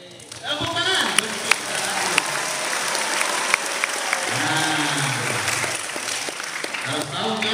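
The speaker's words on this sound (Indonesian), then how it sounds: "Tepuk tangan." Schoolchildren clapping at an Isra Mi'raj commemoration in an Islamic primary school, a lively sustained round of applause filling the room, with voices and shouts mixed in throughout.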